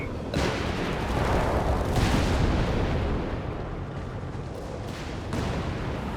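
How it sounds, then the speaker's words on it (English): Heavy battlefield fire in Company of Heroes 3, with commandos laying down suppressive gunfire against advancing German troops, forms a dense, loud, continuous roar of shots and booms with a few sharper bursts. "we got commandos there laying down heavy suppressive fire of the cascades against the advancing German troops"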